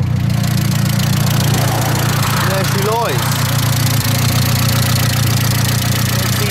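A turbocharged 2.3-litre Mazda Miata engine idles with a steady mid-low drone throughout, even and smooth, with a man's brief remark over it partway through.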